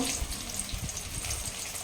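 Steady close-up sizzling and bubbling of oil in a pan while cooking brinjal gravy, continuous and fairly loud with no talking.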